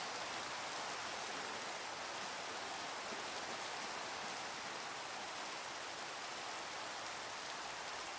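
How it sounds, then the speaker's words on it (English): Rain falling in the Minecraft video game, a dense, steady hiss of drops that holds constant and fairly loud throughout, with no voices. "that's supposed to make the rain stop"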